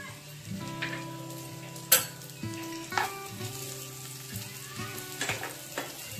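Cashew and almond pieces fry in ghee with a steady sizzle, broken by a few sharp clinks of a spoon against the pan. A faint tonal hum runs underneath.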